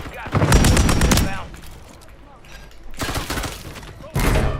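Loud automatic gunfire comes in rapid bursts in the video game Warzone on the Verdansk map: a long burst, a pause, then two shorter bursts near the end. Players talk in between.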